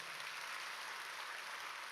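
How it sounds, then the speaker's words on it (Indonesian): A church congregation claps during a worship service, giving a steady, fairly faint wash of applause with no voices. "Tepuk tangannya jangan setengah-setengah."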